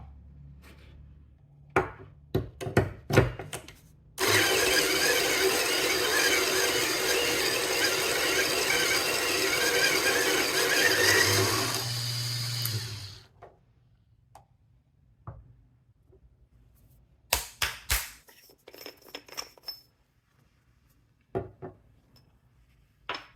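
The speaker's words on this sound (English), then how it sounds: "So having fresh beans is probably pretty good. So that was about 5 grams. And here we go. Here we go," Fresh coffee beans, about 5 grams, ground in a hand grinder for an OutIn Nano portable espresso setup: a steady, close crunching grind of roughly nine seconds, with scattered clicks and handling knocks before and after.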